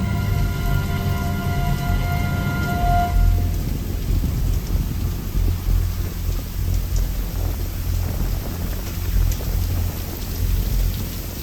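Heavy rain and wind pound a boat at anchor during a squall, a steady loud hiss of downpour with rumbling gusts; a brief tonal ringing fades out early, and no one speaks.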